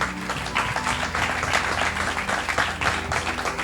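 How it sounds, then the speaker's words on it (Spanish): Audience applause at a church conference, steady, dense clapping from a crowd filling the whole stretch at moderate volume. "yo quiero empezar pidiéndoles a ustedes que se den un aplauso,"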